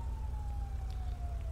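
A wailing emergency siren from an ambulance in the video game GTA 5 on PS4, a steady tone sliding slowly downward, heard at moderate distance over constant low rumbling background noise.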